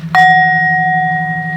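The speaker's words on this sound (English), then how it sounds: "listen to the bell" A meditation bell is struck once, ringing out clearly with a pure, sustained tone that decays slowly over a steady low hum, no voices present.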